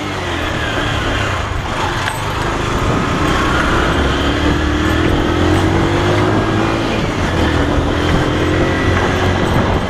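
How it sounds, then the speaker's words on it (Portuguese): A Honda CG 125 motorcycle is ridden, with a continuous engine drone and some wind noise that stay loud and close throughout, with slight shifts in pitch as the revs change. "na volta com a motinha do parceiro"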